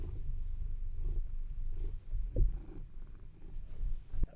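A house cat purrs close by in low, steady rumbling cycles, with a few soft thumps and shuffles mixed in and no talking over it.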